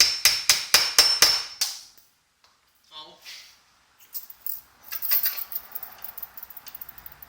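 Rivets are hammered into sheet metal: a quick run of about six sharp, ringing blows, then a pause followed by lighter scattered taps and metallic clinks, close up.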